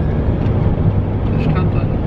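Camper van rolling onto the causeway road to Rømø island in Denmark, a steady low engine and road rumble filling the whole stretch, with faint speech over it.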